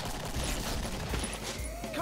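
A combat shotgun fires in the Killing Floor video game, a quick burst of sharp booming shots amid other gunfire and game effects, with players' voices over the top.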